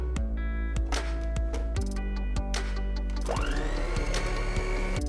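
French apple cake batter with milk is whirred together by a steady, close motorized mixer that keeps a continuous buzzing drone, with small shifts in pitch as it works the mixture.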